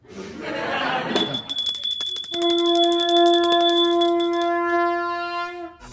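A temple bell is rung repeatedly, its bright metallic strikes layering into a ringing, sustained chime after some indistinct murmuring at the start.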